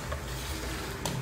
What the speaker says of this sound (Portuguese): aqui tá a cebola fritando aqui